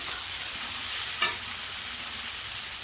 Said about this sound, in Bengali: মাংসটা আমি ভালো করে কষিয়ে নিয়েছি।